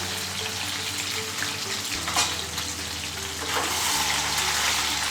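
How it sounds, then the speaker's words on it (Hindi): Paneer pieces half deep-fry in hot oil in a pan, giving a steady, dense sizzle and crackle that runs throughout with no talking. "तो पनीर को 2 मिनट तक फ्राई करना है।"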